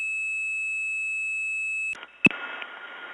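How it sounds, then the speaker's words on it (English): A 2600 hertz tone sent over a 1979 telephone line at a step-by-step tandem exchange, a steady pure whistle held for about two seconds, then cut off by a click and faint line hiss. "I'm going to have to raise the volume of my 2600 hertz tone"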